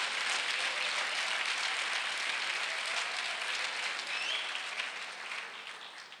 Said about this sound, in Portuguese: Pode aplaudir bem forte a Jesus.